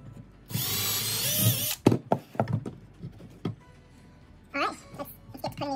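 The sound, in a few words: power drill driving screws into antler mount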